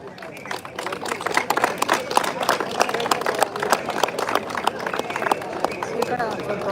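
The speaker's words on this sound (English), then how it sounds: "Can all of us clap" Audience clapping at a live charity event in Bangalore, with sharp claps that start sparse, thicken into brisk group applause, and continue over voices talking throughout.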